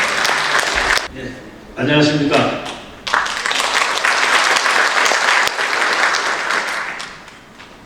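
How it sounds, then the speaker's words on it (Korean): Audience applause greeting a speaker at a book concert in an arts center hall, loud sustained clapping broken briefly by someone talking, then resuming and tapering off. "박수로 맞아주십시오"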